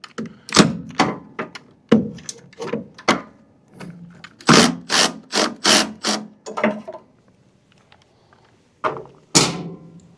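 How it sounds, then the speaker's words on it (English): A 1/2-inch wrench working a bolt and nut on a snowblower, giving loud close metallic clanks and ratcheting knocks in uneven bursts, including a quick run of strokes mid-way, then a pause and a few last hits. "So I've got just a 1/2-inch wrench to get on it for the backside."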